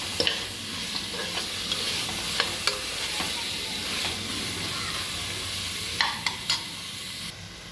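Biryani masala frying in oil while being stirred, a constant close sizzle broken by a few sharp scrapes and clicks of the spoon against the pan, no talk.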